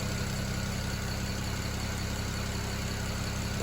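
A BMW 335i engine idles after a misfire repair, giving a steady, even drone with constant low rumble and broadband hum, unbroken and alone throughout.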